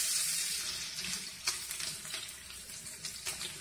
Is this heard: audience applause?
no